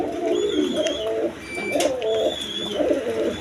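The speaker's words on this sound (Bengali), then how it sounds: "খামারের কবুতর দেখেন" Farm pigeons, coloured breeds including Lal Gorra, coo in repeated low, rolling phrases close by, with a few faint higher chirps between the coos and no one speaking.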